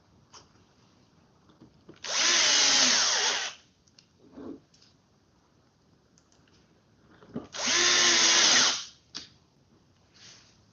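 Power drill driving screws to mount cabinet hinge plates, two loud sustained whirring bursts of about a second and a half each, close by, separated by quiet workshop pauses with small handling clicks.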